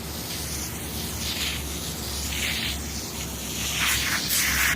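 Foamy carpet cleaner sprays onto a Peavey professional audio speaker in a steady hissing rush over a low hum, with a few louder bursts toward the end and no talking.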